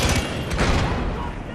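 Dense, continuous gunfire from Far Cry 4 fills the moment as a loud, unbroken rattling barrage, with a voice briefly heard over it.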